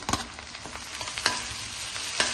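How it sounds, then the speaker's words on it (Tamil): Mustard seeds crackle and pop in hot oil in a pan while cooking Pallipalayam chicken, with scattered sharp snaps over a steady close sizzle. "எண்ணெய் காஞ்சிடுச்சு, கடுகு போடலாம்."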